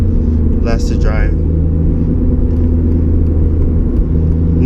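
A 2009 Honda Civic Si engine drones steadily from inside the cabin while driving, a constant low rumble with a few brief faint chirps near the start.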